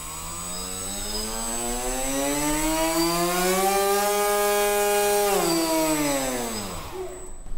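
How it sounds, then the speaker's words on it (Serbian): A small propeller on a model aircraft spins up in a loud, steady whine that rises and falls in pitch, runs close and continuous for several seconds, then winds down at the end. "To je manji propeler."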